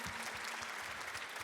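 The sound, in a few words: audience applause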